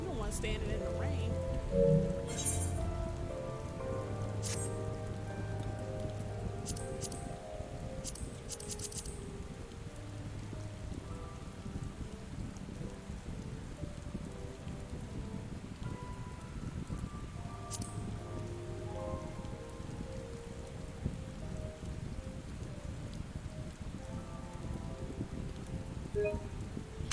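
Rain in Final Fantasy XIV Stormblood patters steadily and quietly for a long stretch, with occasional sharper drop clicks and a low tonal game ambience beneath.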